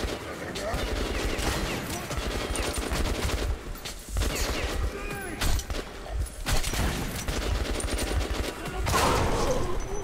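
Dense gunfire in the first-person shooter Metro: Last Light, with shots and bursts running continuously across the whole stretch, loud and close, mixed with other game sounds and some talk.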